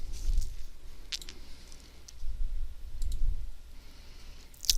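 Computer mouse buttons clicking as web page links are tested, a few sharp distinct clicks spaced irregularly, close and fairly loud over quiet room tone.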